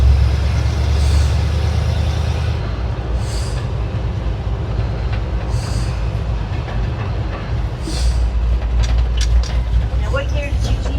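A vehicle engine running in third gear, a loud steady low rumble with road noise throughout and a few faint higher clicks near the end.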